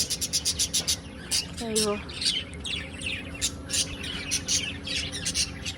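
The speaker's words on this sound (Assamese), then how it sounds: "এইবিলাক খুব ধুনীয়া ধুনীয়াকৈ চৰাইবিলাক আছে ইয়াতে" Rapid, high chirps and squawks from several birds repeat throughout, close by, while a person talks underneath.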